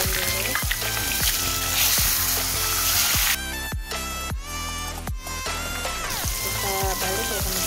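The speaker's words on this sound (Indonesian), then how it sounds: "kita goreng dulu ikannya" Loud, steady sizzling of flour-dusted fish frying in hot oil, with occasional pops and clinks of a utensil in the pan.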